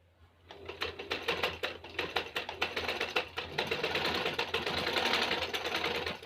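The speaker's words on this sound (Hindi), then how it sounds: "बड़े बखिए के साथ हम अपनी सिलाई करेंगे" A sewing machine runs steadily with long stitches, joining a lace strip onto a sleeve. The needle gives a close, fast, even rhythmic clatter that begins after a brief quiet start and continues without talking.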